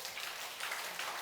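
A church congregation applauds during a Sunday worship service after new choir members are appointed, a soft, distant wash of steady clapping with no voices over it.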